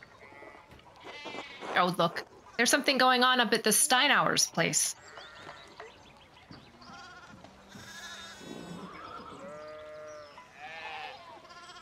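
In the video game Pentiment, sheep bleat loudly and repeatedly near a farm where a fence rail has fallen, giving several wavering cries up close. Soft speech, narration and quiet game ambience follow.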